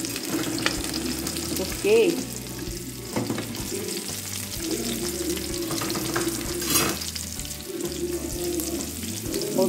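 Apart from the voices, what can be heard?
onion and potato frying in a pan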